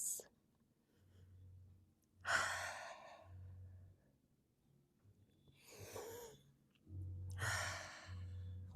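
Slow, deep breaths in a quiet yoga session, several long audible inhales and exhales with soft airy rushes, close and gentle, each separated by short pauses.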